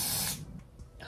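Hairspray hisses in one steady close burst onto wig lace, then stops abruptly, leaving a faint second puff.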